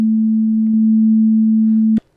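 A Sonicware Liven XFM FM synthesizer holds a steady, loud, pure low tone with all operator volumes turned up, sustained for about two seconds before cutting off abruptly.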